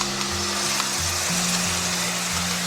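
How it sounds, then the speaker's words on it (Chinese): Aromatics stir-fry in a wok in a little leftover oil before a sauce goes in, giving a steady, close sizzle with a low hum beneath it and no talking. "下入料头炒香， 炒香以后下入酱汁"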